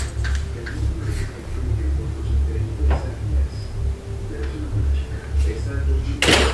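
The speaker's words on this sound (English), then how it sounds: "He's locking the door, locking it," A door is locked with a single sharp, clangy clack near the end, following several seconds of low rumbling background and faint knocks.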